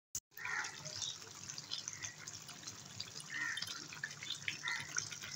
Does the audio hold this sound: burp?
no